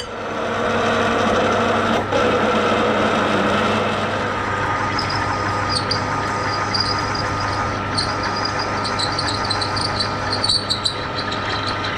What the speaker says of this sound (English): So we're drilling with a 5/8 drill.